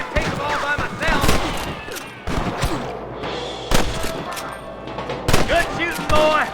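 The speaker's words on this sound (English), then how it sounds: "Good shooting, boy!" Gunfire rings out in a Red Dead Redemption shootout, several sharp shots spaced through the passage over game music and background noise, with voices talking around them.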